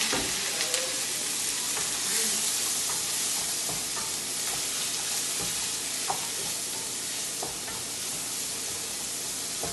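Lettuce and broccoli frying in butter, a steady close hiss and sizzle with occasional stirring clicks and pops throughout.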